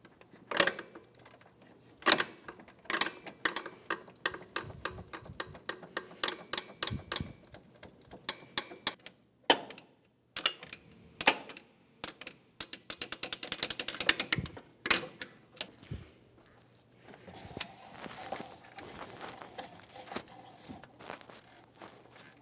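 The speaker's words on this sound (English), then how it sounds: "Use a 12 millimeter socket and remove the bottom bolt for the tensioner." Metallic clicks and ratcheting taps from a 12 mm socket wrench loosening the bottom alternator tensioner bolt on a 2013-2017 Honda Accord, arriving in quick irregular bursts, close and fairly quiet, with short pauses between them.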